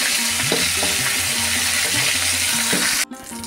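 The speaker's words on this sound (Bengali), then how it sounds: "একটু হালকা করে ভেজে নিতে হবে। বেশি ভেজে নিলে হার্ড হয়ে যাবে চিকেন।" Chicken pieces frying lightly in hot oil for a Bengali chicken and potato curry, giving a dense, steady sizzle close by with faint stirring. The sizzle cuts off sharply near the end and drops to a quieter hiss.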